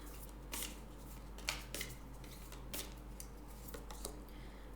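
Oracle cards, a Moonology deck, are shuffled and drawn by hand. Soft papery flicks and snaps come in an uneven string, close and quiet, over a faint steady hum.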